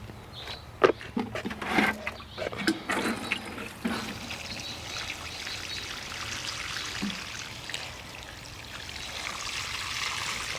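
Water poured onto potted plants trickles steadily, a soft continuous splashing with a few louder gurgles and knocks early on, then a gentle even flow.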